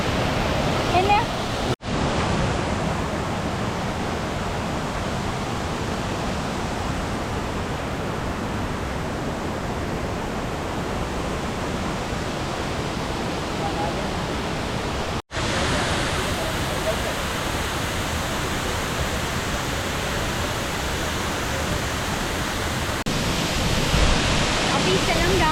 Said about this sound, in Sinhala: ඒකෝර මේක තමයි දූවිලි ඇල්ල.